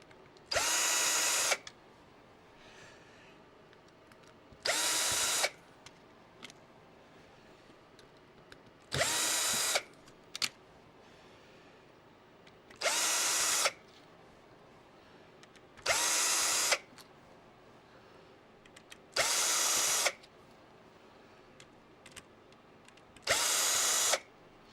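Power screwdriver backing screws out of a vintage Nintendo Game Boy or DS console, seven short, loud whirring bursts of one to two seconds each, evenly spaced with quiet pauses between them.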